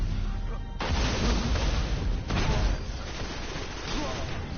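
Dense bursts of gunfire and booming impacts from a Destiny Trials match, continuous and loud across the whole stretch with a sharp jump in intensity early on, no voices standing out.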